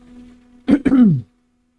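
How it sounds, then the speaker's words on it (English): One short, close, harsh cough in two quick bursts, heard alone after quiet. "that thought gave me anxiety and then I fucking coughed"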